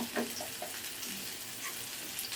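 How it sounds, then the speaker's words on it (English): A steady sizzle of onion and ginger paste frying in a pan, with occasional stirring scrapes, close and moderately loud. "the onion has been poured over the frying pan"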